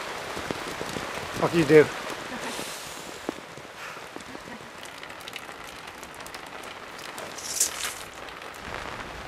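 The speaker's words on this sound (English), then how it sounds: "It's a lot of rain." Heavy rain falls steadily on surfaces outdoors during a community radio station build in Nashville, a constant wash of patter beneath a brief spoken question.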